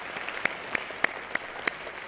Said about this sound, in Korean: 우리 영광의 주님께 감사와 영광의 박수 드립시다.